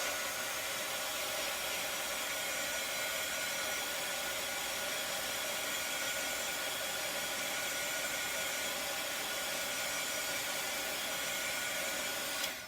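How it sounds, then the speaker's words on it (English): A heat gun drying freshly stenciled paint on Scrabble-style letters blows a steady, even whoosh of hot air throughout, close and unbroken with no talk. "I'm going to grab my heat gun because I'm going to get these dry in between"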